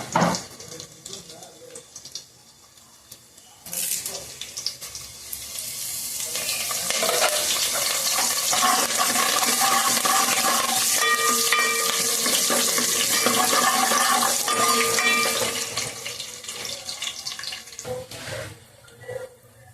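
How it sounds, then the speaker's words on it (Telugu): Seeds and curry leaves crackle and sizzle in hot oil in a pan, the frying swelling loud and steady through the middle before fading, with a voice talking over it at times. "తాలింపు గింజలు ఇప్పుడు ఇవన్నీ వేసి బాగా వేయిస్తానండి వేగాలి కరివేపాకు కూడా వేస్తాను"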